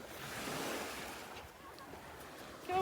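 Surf at a beach washes in as a broad hissing swell that peaks and then eases, carried on gusty wind noise, with faint distant voices toward the end.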